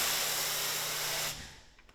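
Car detailing product sprayed onto a car hood: a steady, close hiss of spray for just over a second that cuts off sharply, leaving quiet faint handling noise.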